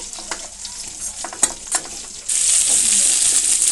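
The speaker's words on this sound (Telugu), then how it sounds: "ఇప్పుడు పొడువుగా కట్ చేసి పెట్టుకున్న ఆనియన్స్ కూడా వేస్తున్నాను" Sliced onions are added to green chillies frying in a pan for a bottle gourd stew. Light spatula clatters and a soft sizzle suddenly jump to a loud, steady hiss that holds to the end.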